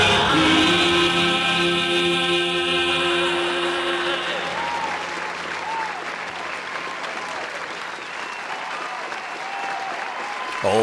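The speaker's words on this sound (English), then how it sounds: "Keep on clapping. We need all the claps we can get." An audience claps and applauds at a live evening programme, a dense, sustained wash of many hands filling the room, with a tonal musical sting fading out early on and the clapping continuing strongly to the end.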